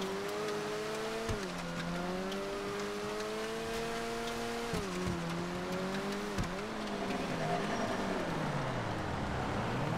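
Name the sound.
car drifting with tire squeal in GTA FiveM (video game)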